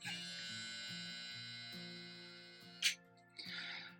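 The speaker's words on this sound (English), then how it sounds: "Very powerful little motor. So even though it could have a little bit more battery life, I mean, it's a powerful little clipper" A Kemei KM90-4 hair clipper motor runs under pressure, a close, steady electric buzzing whine that shifts slightly in pitch, broken by a couple of sharp clicks near the end.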